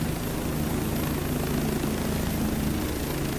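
Helicopter landing at a hillside site, a steady close rotor and engine roar filling the whole stretch without letting up.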